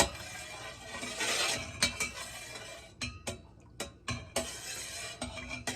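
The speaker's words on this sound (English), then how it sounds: "I like to stir it so it's an even temperature reading" A utensil stirs milk heating in a pot for chèvre, making soft scraping swirls and several sharp clinks against the pot's sides in an irregular rhythm, close and quiet.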